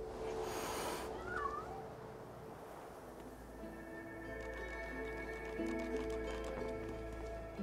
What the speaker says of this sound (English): Oh, the black cat is... hurt.